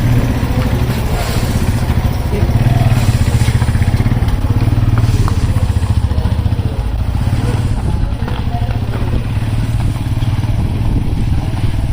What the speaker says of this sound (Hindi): चेन चढ़ चुकी है जी मोटरसाइकिल को, बाहर अब निकल रहे हैं